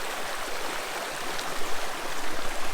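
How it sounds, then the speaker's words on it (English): Canfield Creek flows in a state park where the bridge is gone, giving a steady, close rushing babble of water that holds even throughout, with no talking. "So we're here at Canfield Creek"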